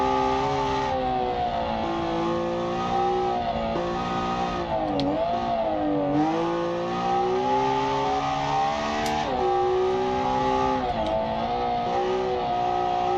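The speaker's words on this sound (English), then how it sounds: "I just remembered this is the very loud car" A very loud car engine drones steadily while climbing Pikes Peak in the BeamNG driving game, its pitch dipping and rising with throttle and gear changes throughout.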